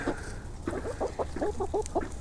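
A homestead rooster clucks in a rapid run of short, throaty calls, close and fairly loud against a light outdoor background.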